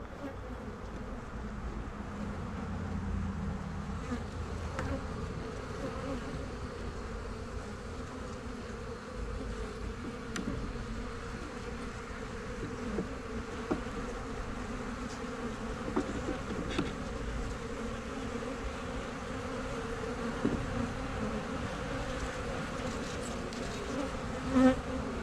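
Dense, steady buzzing of honey bees swarming around a hive colony that may be under robbing attack, close and continuous with occasional individual bees flying past.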